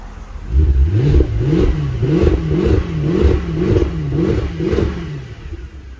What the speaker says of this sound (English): I love the sound of the V8